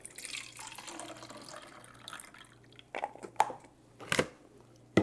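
Tap water running into a sink, a soft continuous flow with several louder splashing bursts near the end.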